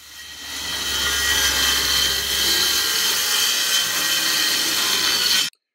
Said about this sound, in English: Make your Hardy Backer cuts.